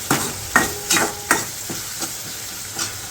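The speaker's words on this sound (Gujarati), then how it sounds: "આનો વઘાર કરી નાખો છે બરોબર છે" Spices crackle and sizzle in hot oil, tempering for mung beans, with several sharp stirring scrapes spaced through the short stretch.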